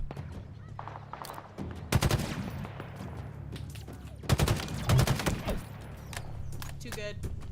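Rapid gunfire bursts from Halo Infinite, dense chattering automatic fire in two loud stretches with background combat noise, a voice talking over it.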